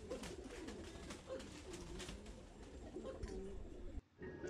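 Thai Titan pigeons cooing on a farm, a steady dense mass of low burbling coos from many birds close by, continuous throughout before cutting off abruptly near the end.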